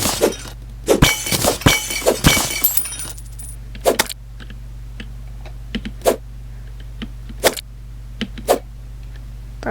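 Objects being smashed in the video game Terraria: a flurry of sharp breaking and shattering hits at first, then scattered single cracks spaced every second or so over a steady low hum.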